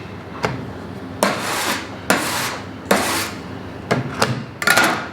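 A handy scraper drags across a cake, leaving a series of sharp scraping strokes with a faint rasp. The strokes are irregular and close, and a quick cluster comes at the end.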